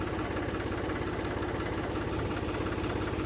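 A tractor engine idles close by, a low steady chugging rumble with a regular pulsing beat, no voices.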